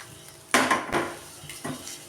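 Eggs fry in a pan with oil, chili powder and salt while a utensil clatters against the metal in a few sharp knocks, with a faint sizzle underneath.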